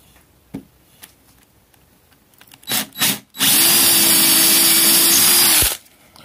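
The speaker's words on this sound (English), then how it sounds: "I'm going to drill the holes, put the screws in" A few light taps and short bursts, then a power drill whirs loudly and steadily for about two seconds before stopping, drilling screw holes for a tubeless wheel mounting jig.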